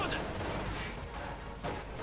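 Light infantry gun firing in Company of Heroes 2, a dense, muffled burst of shots and impacts crackling together over a noisy battlefield background, fairly faint overall.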